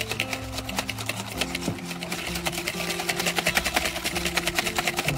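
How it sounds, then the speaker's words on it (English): Egg yolks and sugar being whisked together in a bowl, a fast, steady, rhythmic whirring rattle that continues close up without pause. "So I've got some egg yolks in here, some sugar, and I just want to whisk these together."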